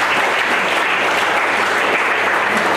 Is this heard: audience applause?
yes